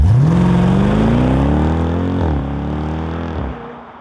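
A Jeep Grand Cherokee SRT engine revs up with a rising whine, then holds and slowly settles, heard close and fairly loud with no talking.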